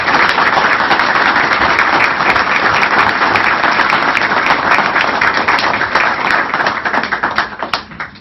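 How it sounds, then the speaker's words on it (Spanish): Loud, steady applause from a crowd at a Peronist party gathering in Escobar, thick and continuous before thinning out and fading in the final second. "pido un fuertísimo aplauso"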